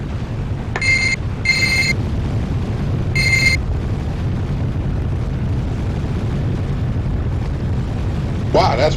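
Explosions and missile blasts from the video game Contra: a few short, bright, ringing game sound bursts over a steady loud rumbling bed, with a fresh crackling burst near the end.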